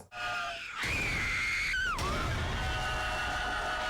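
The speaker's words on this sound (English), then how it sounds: "You just gonna keep screaming?" A scream from a horror TV series, loud and sustained, wavering and then sliding downward, with a sharp shriek near the end; it carries on alone without talk.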